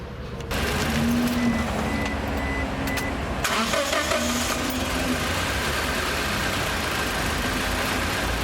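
A car engine idles steadily after starting up, a continuous low rumble close by with a brief higher whine near the start, no speech.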